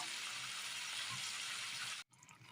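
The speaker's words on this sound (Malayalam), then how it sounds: "നല്ലതുപോലെ ഒന്ന് തിളക്കട്ടെ" Papaya curry with curry leaves bubbling in a pan, a steady broadband simmering hiss with soft popping that runs continuously for about two seconds, then cuts off abruptly before faint cooking noise returns.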